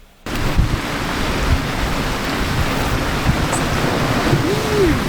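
Thunderstorm at sea during a hurricane, heard from a sailing boat: a steady, loud roar of wind, rain and surf with low rumbling throughout and no voices.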